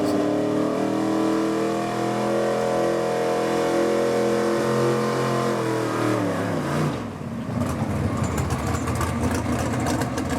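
A 1986 Chevy pulling truck nicknamed the Misfit revs hard at a truck and tractor pull, its engine droning loud and steady with rising pitch for several seconds before cutting to a rougher, noisier roar.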